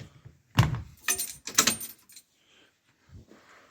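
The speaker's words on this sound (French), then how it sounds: "je vais quand même couper le contact" Keys jangle and clunk near a Dodge ignition as it is switched off: a few sharp metallic rattles and knocks in quick succession, close and fairly loud, then quiet with faint handling noise.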